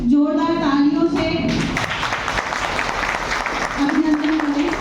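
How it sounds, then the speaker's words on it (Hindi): A crowd at a retirement farewell ceremony for tehsil employees in Sadabad claps in a dense, sustained round of applause, while a voice speaks over the microphone at the start and again near the end. "इस बात पे मैं चाहूंगी कि आप सभी जोरदार तालियों से"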